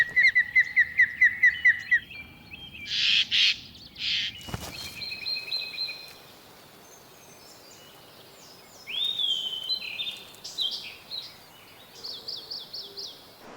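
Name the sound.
jays calling while mobbing an osprey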